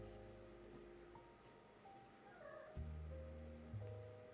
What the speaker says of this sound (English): sorry if you can hear my cats screaming in the background.